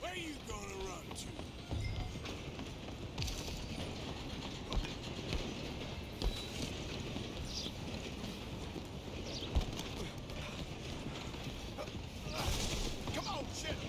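A train rolls along in Red Dead Redemption 2 during a chase, a busy mix of clacking, creaking metal and hoof-like clatter under scattered shouting voices, fairly distant and steady.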